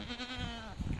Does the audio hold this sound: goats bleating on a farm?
yes